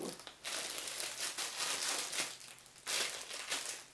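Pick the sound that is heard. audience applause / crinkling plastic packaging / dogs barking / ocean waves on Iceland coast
crinkling plastic packaging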